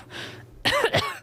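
A person imitates a mother-in-law's annoying cough: a brief throat-clearing rasp followed by two sharp, close coughs in quick succession.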